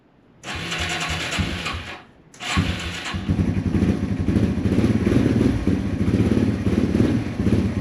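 Yamaha TW200 motorcycle with carburetor running issues cranks and fires, cuts out briefly, then catches and settles into a loud, close, steady single-cylinder idle.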